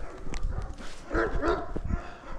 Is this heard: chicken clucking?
no